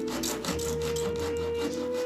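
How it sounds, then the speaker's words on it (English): A hand saw is pushed back and forth across wood with almost no pressure, giving soft, repeated rasping strokes at a fairly quick, even rhythm, faint and close by. "strokes the saw back and forth enough times to start a fire, but he's not applying any pressure."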